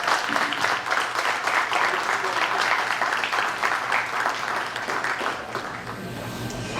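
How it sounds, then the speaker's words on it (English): Audience applause at a community meet-and-greet luncheon, a steady, dense wash of clapping from many hands that carries on without break and eases slightly toward the end. "Give a round of applause."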